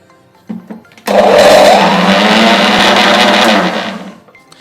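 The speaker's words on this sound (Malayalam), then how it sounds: "അപ്പോൾ ഇതും നമുക്കതുപോലെ ഒന്ന് അടിച്ചെടുക്കാം" Mixer blender whirring through rambutan juice with water and a green chilli, a couple of brief clicks then a loud, steady motor roar for about three seconds that winds down to quiet.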